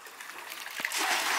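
Water from the last pan poured into a paddling pool splashes and trickles softly, swelling toward a fuller gush near the end, faint and close with no talking.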